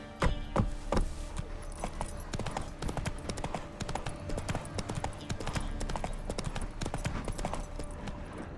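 In The Witcher 3, a horse is ridden at a gallop, giving fast rhythmic hoofbeats that thud steadily and close throughout, with faint jangling tack.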